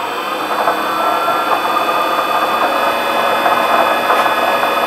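A fly cutter on a milling machine spinning steadily after start-up, giving a loud, continuous mechanical whir with a faint rattle underneath, no voices.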